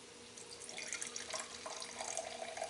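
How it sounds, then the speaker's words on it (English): Apple juice poured into a hot pan to deglaze while making venison stroganoff, a soft continuous splashing trickle, close and quiet, with no talk. "We're going to add this apple juice and kind of deglaze the bottom of our pan."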